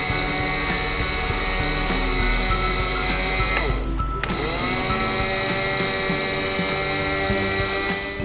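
An electric grinder whirs loudly and continuously while grinding roasted coconut and spices for jaggery mung bean sweet balls, with a brief dip in pitch midway before it spins back up.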